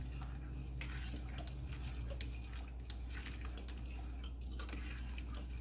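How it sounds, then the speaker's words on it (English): Rice stirred in a cooking pot, a steady scraping and soft clinking of a utensil against the pot with a low background hum, no talking. "You want to stir it, that's the rice"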